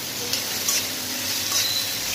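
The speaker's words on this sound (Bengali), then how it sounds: "প্রথমে দিলাম নুন স্বাদ মতো, তারপরে নাড়াচাড়া করছি" A vegetable sabji with salt and ginger-garlic paste sizzles steadily in a pan, a dense continuous hiss with faint stirring scrapes mixed in.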